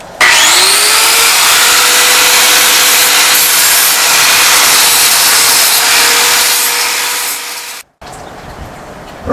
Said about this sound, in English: Now all we have to do is clean up the edges a little bit and get off some of the small little burrs in the metal